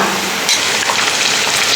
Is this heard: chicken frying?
yes